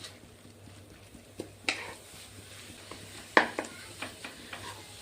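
Pumpkin being stirred and sautéed in ghee in a pan for gharge: soft scraping and stirring sounds with a faint sizzle, close by, with occasional louder spoon or utensil clinks and no talking.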